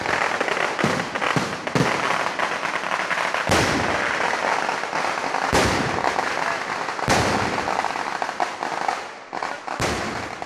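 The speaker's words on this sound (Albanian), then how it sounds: "Shpërthimi i shkaktuar nga fishekzjarët" Fireworks at a Hindu temple new year festival in Kerala go off in a loud, dense barrage: sharp cracks and booming bursts overlap almost continuously, with a few heavier blasts standing out.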